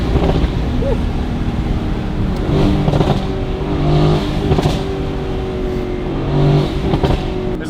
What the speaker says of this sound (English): Let's do a big acceleration.